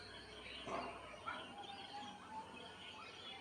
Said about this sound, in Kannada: ತುಂಬ ಹಕ್ಕಿಗಳ ಶಬ್ದ ಎಲ್ಲ ಕೇಳಿಸ್ತದೆ